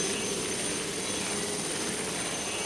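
A steady, dense engine drone with a rapid chopping rotor texture, continuous and fairly loud throughout.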